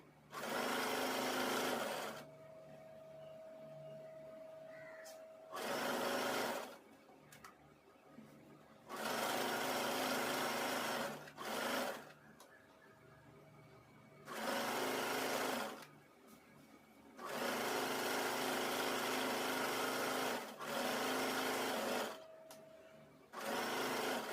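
Sewing machine stitching a fall and pico edge onto a saree, running in several loud bursts of steady whirring separated by quieter pauses, with no one talking.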